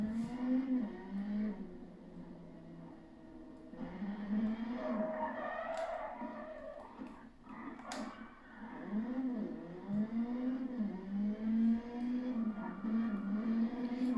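Rally car engine in the racing video game WRC 9, played in a test area, droning steadily throughout with rising and falling pitch as the car revs and shifts, loud and continuous with brief harsher bursts.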